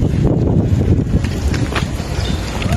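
Steady cold wind in Tagaytay rushes and buffets the microphone, a loud continuous roar with low rumble throughout.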